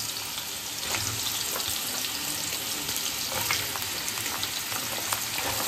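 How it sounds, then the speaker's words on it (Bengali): Potatoes, jackfruit seeds and pointed gourd fry together in a pan of oil, producing a continuous close sizzle with occasional stirring scrapes and small crackles. "দেখো এগুলো ভালো করে ভেজে নিচ্ছি।"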